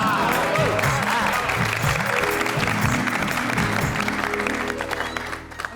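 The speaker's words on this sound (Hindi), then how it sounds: "इसी बात पे बापूजी के लिए जोरदार तालियां हो जाए।" A group gives a lively round of clapping for an elder at a gathering in a comedy series, dense clapping mixed with background music and voices, fading toward the end.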